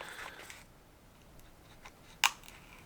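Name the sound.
cutting the seal on a Hot Wheels package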